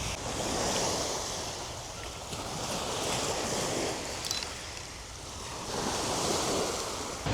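Waves wash onto a sandy beach on Jebu Island while wind buffets the microphone, with the surf swelling and receding in slow surges, loud and close, and no voices.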